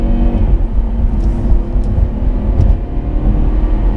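A 2015 Volvo V60 T5 Drive-E accelerates hard up a freeway on-ramp, its engine drone and road rumble steady and loud from inside the cabin, with no voices.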